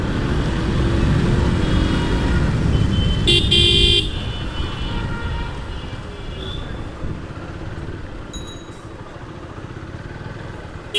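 A car without number plates driving past on a rainy day, a loud close engine and road rush that fades as it moves off, with short horn toots and a voice speaking.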